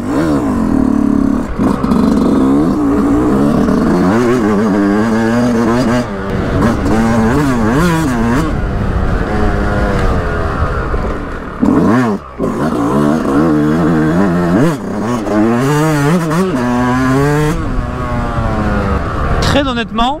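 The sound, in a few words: Yamaha 125 YZ 2022 motorcycle engine revving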